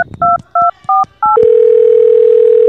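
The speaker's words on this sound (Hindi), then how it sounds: "अभी फोन करके बुलाता हूँ" Five quick dialing beeps in a row, then a steady continuous telephone tone that holds until the end, in a PUBG spoof comedy sketch.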